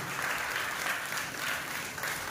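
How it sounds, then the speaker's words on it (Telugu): An audience claps together at a Mother Mary feast service, giving a dense, steady wash of applause that holds at an even level throughout, with no voices standing out. "అందరూ చప్పట్లు కొడదాం"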